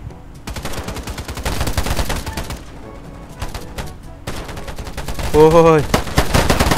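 Rapid bursts of gunfire crackle through an online shooter game, dense and close in clusters with short gaps, while a man exclaims briefly near the end.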